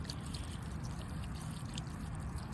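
Liquid fish fertilizer poured from a bottle onto rose bushes in a garden, a steady, soft trickling stream running continuously at close range.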